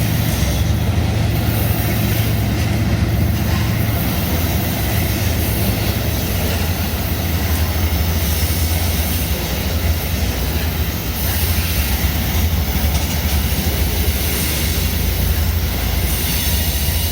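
A BNSF train passes close by on the track, its loud, steady rumble and rolling wheel noise continuous throughout with faint squeals, no talk.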